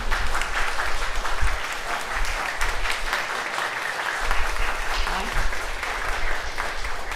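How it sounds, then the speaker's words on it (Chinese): A church congregation at a Sunday combined worship service applauds to thank a visiting choir: steady, dense clapping from many hands fills the room at an even level throughout, with no voices standing out. "我们拍拍手来谢谢他"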